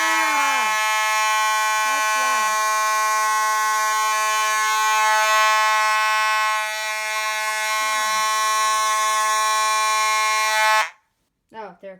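An ADT Simplex T-bar fire alarm horn blares loud and close with a steady harmonic tone for about eleven seconds, then cuts off abruptly, followed by a brief voice.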